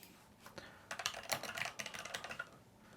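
Quick, close typing on a computer keyboard: a burst of light clicking keystrokes that builds into a dense, uneven patter over a few seconds, with no talk.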